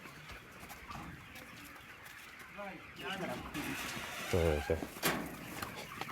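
Chickens clucking in a farm chicken run, a scattered flock heard close by throughout, with a few louder squawks near the end while a person speaks briefly over them.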